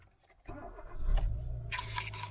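An auction car's engine turns over and catches after a key jangle, then settles into a steady low idle rumble before pulling away on a test drive, heard up close from inside the cabin with no talk.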